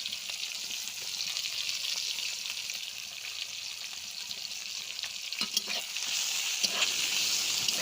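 Chopped onions sizzling in oil with cardamom, a constant bright crackling hiss held close and fairly even, with a few clinks and a rise in intensity near the end, no one talking.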